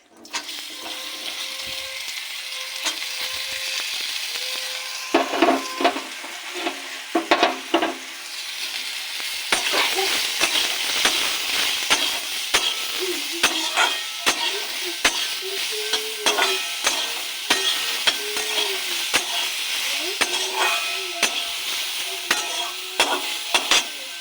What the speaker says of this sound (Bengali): এবার দিয়ে দেবো কেটে রাখা স্ট্রবেরি